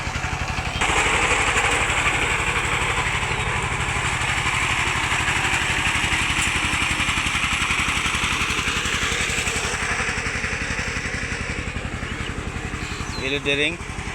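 Engine running inside a rice mill's machine house, a loud, steady chugging drone that fills the whole stretch close by, shifting tone slightly near the end.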